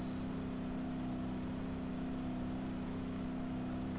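A car engine drones steadily at low speed on a straight road in BeamNG Drive, towing trailers. The hum is constant and even, quiet and close, with no speech.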